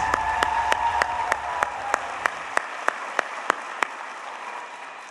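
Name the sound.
applause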